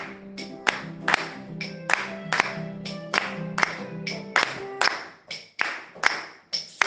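A congregation claps in acclamation at an intense evening prayer service for deliverance, with steady rhythmic claps in a close, lively room while voices and music carry underneath.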